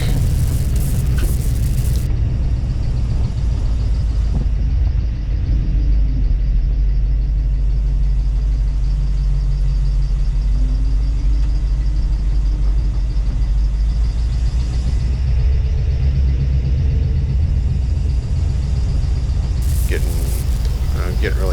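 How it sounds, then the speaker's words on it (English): A car driving a short loop around the block, with a steady low engine rumble and road noise continuing throughout, fairly close and even in level. "I couldn't finish the day without taking it for another short drive around the block."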